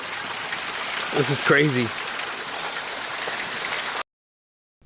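Tokatee Falls in Oregon gushes in a loud, steady broadband roar of rushing water, close and constant, with a brief spoken remark over it before it cuts off abruptly.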